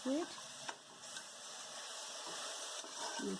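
Ground masala being stirred into an amaranthus and fenugreek biryani, a soft scraping and sizzling in the pan with a few brief utensil knocks, moderately close and steady.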